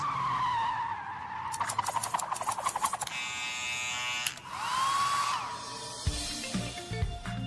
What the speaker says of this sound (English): learning what to do when they start skidding on ice